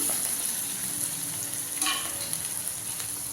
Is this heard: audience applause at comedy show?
no